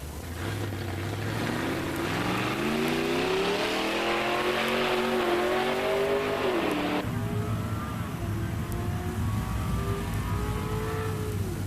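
Drag race between a 1965 Plymouth 383 automatic and a 1970 Torino 429 SCJ four-speed: loud engines rev and climb in pitch through a run, then the sound drops abruptly and a second engine rises again, close and without voices.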